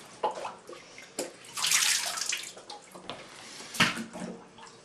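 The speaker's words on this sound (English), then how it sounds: "We're seeing the water go down" Water gurgling and rushing down a clogged bathtub drain, close by, in several surging bursts with brief quieter gaps between them.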